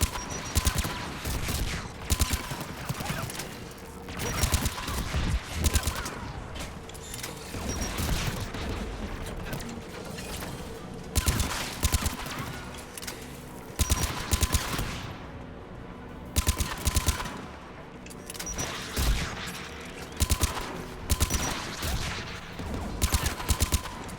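Rapid bursts of gunfire from turret guns guarding a tower in the video game Mass Effect 3, loud and repeated in dense volleys with brief lulls, continuing steadily throughout.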